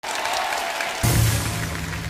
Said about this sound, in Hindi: ऑडियंस बजाओ ना ताली